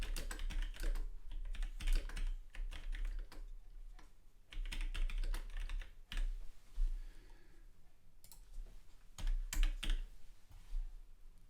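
Fast, steady typing on a computer keyboard, crisp close key clicks in irregular bursts with brief pauses, no talking.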